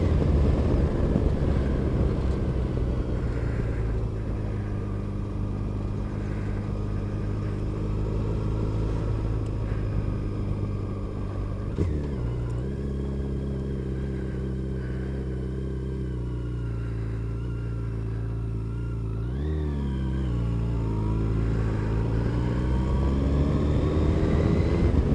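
A motorbike ridden out on a first gentle ride, its engine droning steadily up close with clear shifts in pitch as it changes speed, a brief lull and a rev surge near the end, with no talk.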